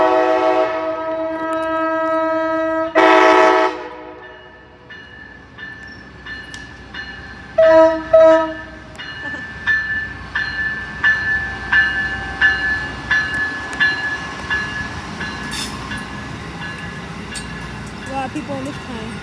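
Amtrak 89 sounds its horn loudly at Staples Mill, mile post 8.2, with a long blast, a pause, then a shorter blast, followed by the rhythmic clatter of the train rolling past close by.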